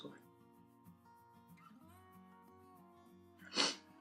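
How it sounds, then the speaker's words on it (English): A single sharp sneeze bursts out near the end, loud and close, after a stretch of quiet background hum and faint tones. "sorry, I had to sneeze."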